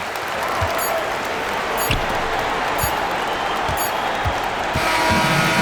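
Virtual arena crowd in NBA 2K25 cheering and applauding steadily throughout a Clippers versus Memphis basketball game, with ball bounces thudding at intervals and a brief whistle-like squeak above the roar.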